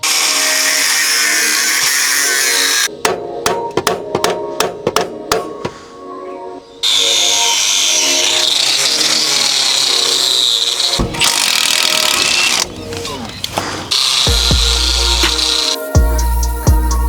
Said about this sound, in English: So I will have to try and cut it off with a grinder.